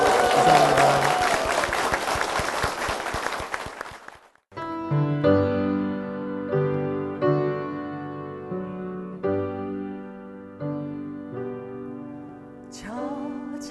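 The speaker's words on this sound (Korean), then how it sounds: "축복의 박수 부탁드리겠습니다" Congregation clapping at a Salvation Army church wedding blessing, a dense burst of applause for about four seconds that cuts off abruptly as sustained organ or keyboard chords take over.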